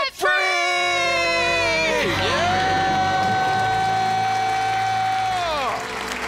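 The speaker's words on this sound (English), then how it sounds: "Let's hear a debt-free scream." Studio crowd cheering and whooping loudly after a countdown as a couple shout in celebration at becoming debt-free, a sustained roar of voices lasting several seconds before tapering off.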